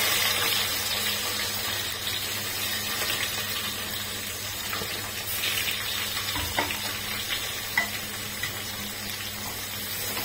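Chopped onion and bay leaf sauté in hot oil for egg biryani, giving a steady, close sizzling hiss that runs evenly throughout with a few small pops and crackles, and no voices.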